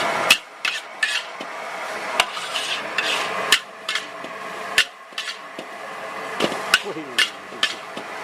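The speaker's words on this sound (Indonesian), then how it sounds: "Masaknya dibanting-banting gitu guys" Jumbo-portion fried rice cooked by a street vendor in a small dark alley, tossed in a wok with sharp metallic bangs and clanks at an irregular beat over constant stirring and sizzling, with faint talk in the background.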